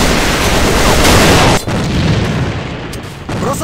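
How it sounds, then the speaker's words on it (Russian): An enemy grenade blast during an A.V.A match on the Castle Rock map: a loud, sustained booming roar that fills the opening stretch, then breaks off and trails into a rumbling aftermath with further muffled bursts. "Граната противника! Граната!"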